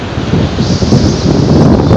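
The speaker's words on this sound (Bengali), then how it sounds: "সামনে সমুদ্র প্রচণ্ড হাওয়া" Strong wind roars steadily across the microphone by the sea in the Andaman Islands, a loud continuous rush with waves blended into the noise and no talking.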